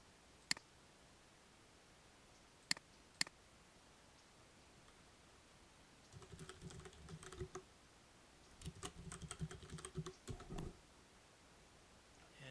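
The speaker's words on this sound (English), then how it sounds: "log in as portal user, which is Kabuk, and type in his password" Quiet keystrokes on a computer keyboard as a password is typed, starting with a few isolated taps and then two short bursts of rapid clicking over a soft background hiss.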